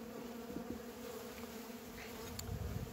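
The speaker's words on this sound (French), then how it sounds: "comme ça les abeilles qui seront enfermées dans le nourrisseur pourront s'échapper" Bees buzz continuously at a beehive feeder, a steady droning hum with faint individual wingbeats passing close, moderately quiet with no talk.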